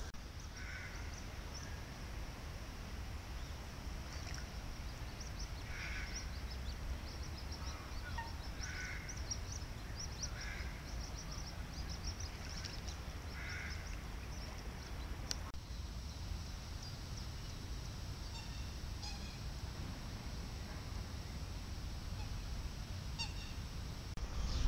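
Geese honk in short, scattered calls at a moderate distance over a constant low outdoor rumble, with the honks clustering in the first half and returning faintly near the end.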